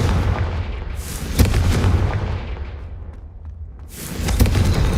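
Confringo fire spell going off in the video game Hogwarts Legacy: a loud, dense burst of explosive booms and rumble, with a sharp crack near the middle and another heavy blast at the end.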